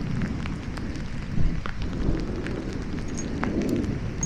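Steady rain falls on a cyclist's route along a crowded path, a dense continuous hiss with a few brief louder gusts, no voices.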